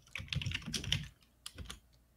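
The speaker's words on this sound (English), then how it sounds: "Listen to all of that typing." Rapid computer keyboard typing in two bursts, clicky keystrokes close and fairly quiet, with a short pause between them and no talking.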